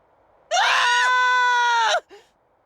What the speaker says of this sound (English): Screams from the direction of the Hypnos house.